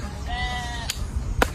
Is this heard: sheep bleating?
yes